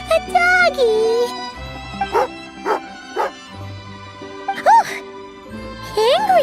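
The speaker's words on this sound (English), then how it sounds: "Angry doggy." Hunting dog in a video game gives a few short yips and whimpers between stretches of character speech and game music.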